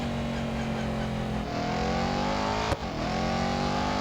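An Aston Martin Vantage GTE race car from the 2018 season in Real Racing 3 on a racetrack: steady high engine drone with shifting pitch as it holds speed into a corner, a brief sharp click midway, engine close and loud throughout.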